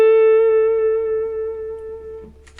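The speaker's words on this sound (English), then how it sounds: "So here is the Analogman tone." Electric guitar played through an Analogman King of Tone overdrive pedal, a single sustained overdriven note ringing loudly, then slowly fading before it is cut off.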